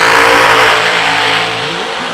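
A drag racing car at the Yellow Bullet Nationals screams at the top end, a loud, sustained high-revving engine roar that fades slightly and drops in pitch as it pulls away.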